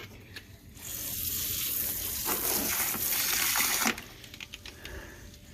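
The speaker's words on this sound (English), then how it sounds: "Get you a catch pan, fill up a bucket, and keep filling it up." Water pouring and splashing steadily into a bucket while rinsing ash off IC chips during gold recovery, a broad rushing wash lasting a few seconds before cutting off, with softer drips and trickles after.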